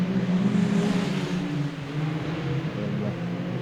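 Autograss race cars drive around a dirt track at Kings Lynn in a steady, loud engine drone with rising and falling revs from several cars, while a commentator talks over it.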